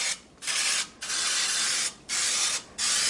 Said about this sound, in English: I'm going to go ahead and turn them over and spray the opposite side as well.